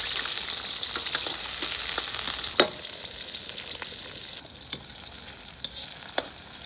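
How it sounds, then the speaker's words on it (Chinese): Scallion, ginger, spices and onion chunks stir-fried in hot oil in an iron wok, with a steady loud sizzle and sharp knocks of a spatula against the metal, close up, no talking. "把这个葱姜还有香料炒香"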